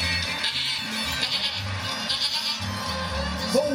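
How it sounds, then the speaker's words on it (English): An animatronic goat in a farm animal band gives a series of mechanical bleats over background music and crowd noise, fairly loud and close. "My friend, Billy the Goat."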